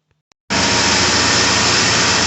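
A 1980 Triumph TR7 engine starts up after two faint clicks and settles into a steady, loud, broadband running note with a quiet exhaust, heard alone for about two seconds.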